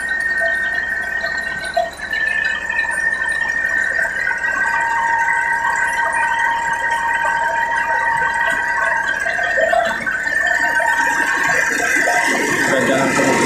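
Caterpillar 3406 diesel engine, 411 horsepower, idling after a broken valve was repaired: a loud, steady running drone with whining tones that holds throughout, then a brief surge of broadband noise near the end.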